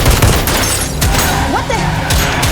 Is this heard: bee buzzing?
no